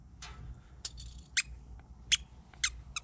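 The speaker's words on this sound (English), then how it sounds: "He's got squeaky toys." Rubber squeaky pet toys, pulled from a pet store dumpster, give six short, sharp, high squeaks at uneven intervals, close by and with no talking.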